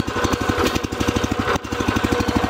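The small engine of a Jansen RD-300 Pro mini dumper runs close and loud, with a rapid, even chugging pulse and a brief dip midway. No one speaks.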